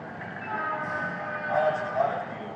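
A 10,000 HP Indian railway locomotive, built under Make in India, gives a steady rumbling train drone with a brief swell of horn-like tone toward the end, mixed under background sound.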